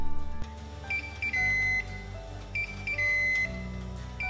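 Electronic beeps from an All-Clad multifunction grill signal that preheating on the fish program is finished, sounding in two short groups, each a few quick chirps ending in a longer tone, over a low humming appliance.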